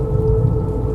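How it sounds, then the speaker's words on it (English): Rain taps against office window glass in a steady, soft patter over a low rumbling backdrop, with no voices. "rain began tapping softly against the office glass once again"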